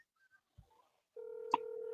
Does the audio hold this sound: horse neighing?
no